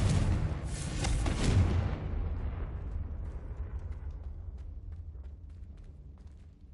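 A Confringo spell explosion in the video game Hogwarts Legacy, a single heavy blast with a bright burst at the start, then a long rumbling decay that fades slowly over several seconds.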